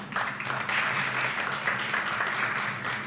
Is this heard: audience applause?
yes